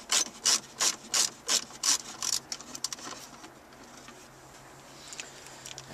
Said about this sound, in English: And we're going to remove this screw.